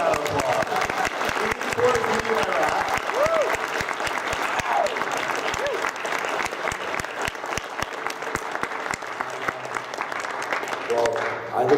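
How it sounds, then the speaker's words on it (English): An audience claps steadily in sustained applause, many hands close and loud, with a few voices faintly audible over it. "give him a round of applause"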